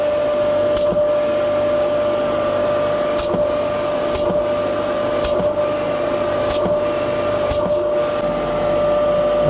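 A homemade workshop dust collector runs on 3-inch pipe, giving a loud, steady motor and fan drone with a constant whine, broken by a few brief sharp clicks.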